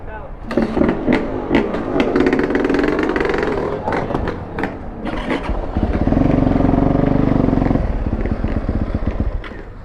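A Yamaha YZ450 dirt bike engine runs close by, idling then revving in rough, rising and falling bursts, with people talking over it.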